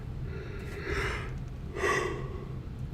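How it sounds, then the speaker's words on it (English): Two breathy, drawn-out yawns, one after the other, each swelling and then tapering off, close and fairly soft over a low background hum. "I am yawning way more than I should be right now."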